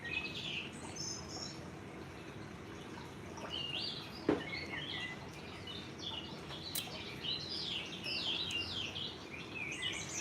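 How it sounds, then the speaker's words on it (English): Recorded birdsong nature sounds played softly in the background of a meditation: scattered faint chirps and tweets over a low, steady hiss, with one sharper click near the middle. "let me know if you guys can hear the birds in the background."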